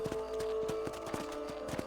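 Hooves clip-clop at a steady walking rhythm as a horse moves along in the game Red Dead Redemption, regular close hoofbeats over a soft ambient hum, with no talking.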